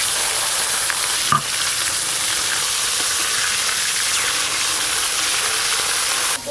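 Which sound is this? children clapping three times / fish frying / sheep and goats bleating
fish frying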